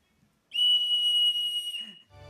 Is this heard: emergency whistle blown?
yes